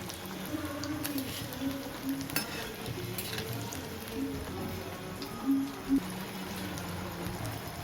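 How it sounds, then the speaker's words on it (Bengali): Soft, steady bubbling sizzle of battered pumpkin and potato fritters frying in hot oil, fairly quiet, with occasional light clinks and a low background hum. "তাই ডুবিয়ে গরম তেলে ছেড়ে দিলাম"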